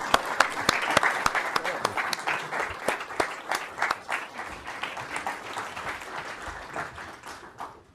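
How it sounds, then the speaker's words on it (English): Audience applause for a panel at a business conference on local growth in the South East, a dense patter of hand claps that builds and then tapers off over about eight seconds, with no talk over it. "Let's give them a round of applause."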